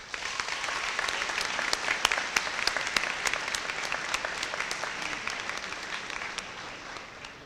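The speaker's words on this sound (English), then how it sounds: "Please give yourselves a round of applause." Sustained applause from students and guests at a Vineland High School moving-up ceremony, dense even clapping from a large crowd that holds steady throughout.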